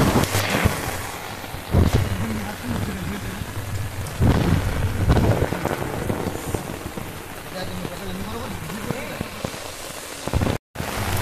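Heavy monsoon rain pours steadily on a hillside trekking trail, a dense close hiss with gusts of wind buffeting the microphone and a few louder bursts throughout.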